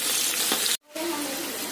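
Brinjal slices crackle as they fry in hot oil, a close, loud hissing sizzle broken by a brief dropout before it resumes.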